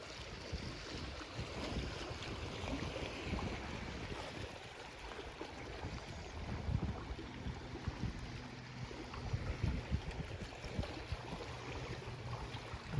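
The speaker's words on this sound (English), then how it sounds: "Listening to those calm waves." Soft, steady wind and gently lapping calm waves make a continuous quiet outdoor wash, with no voices present.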